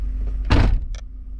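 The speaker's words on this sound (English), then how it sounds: "Now I just closed the driver door" Driver door of a Ford F150 pickup swinging shut with one firm, close thud, followed moments later by a short fainter clack, with a low steady engine-like hum underneath.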